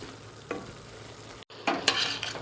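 Vegetables and ground meat stirred in a hot pan for lasagna, a low sizzle broken by a brief scrape, then a sudden dropout followed by louder scraping stirs.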